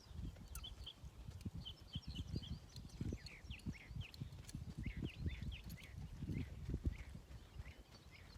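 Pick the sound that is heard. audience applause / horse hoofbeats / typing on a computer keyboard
horse hoofbeats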